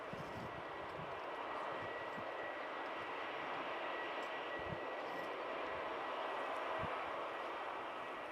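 A Jet2 airliner back from Benidorm at Newcastle Airport gives a steady, broad engine roar at moderate distance, a constant jet rumble with no clear rise or fade.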